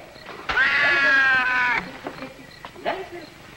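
A cat gives one long, drawn-out meow lasting about a second, close to the mic, followed by a couple of fainter, shorter cries.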